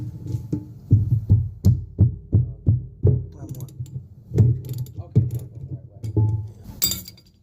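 Ratchet wrench loosening bolts on the rear brakes of a 2000 Ford F250 Power Stroke Super Duty truck: a series of sharp, close metallic clicking bursts in an uneven rhythm, some quick repeated ratcheting, with occasional light clinks.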